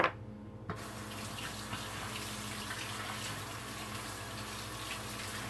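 Tap water gushes steadily into a sink as fruit is rinsed, a loud continuous splash starting abruptly with a brief thud and running alone.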